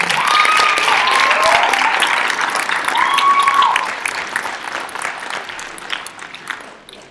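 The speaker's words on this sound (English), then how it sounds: "So please give yourselves a big round of applause." A school winter showcase audience breaks into loud, full applause, dense clapping filling the hall with a few whoops above it, gradually thinning toward the end.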